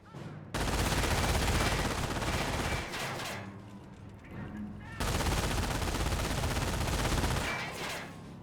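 An M42 machine gun in Company of Heroes fires sustained loud bursts amid battle noise, with two long stretches of rattling fire separated by a brief quieter lull of rumbling explosions.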